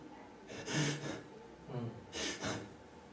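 A voice imitates a woman's hurried heavy breathing, two loud pairs of rough, rushing breaths separated by a short pause.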